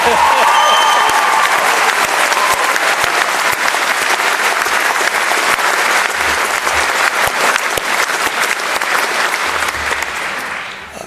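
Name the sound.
audience applause at graduation ceremony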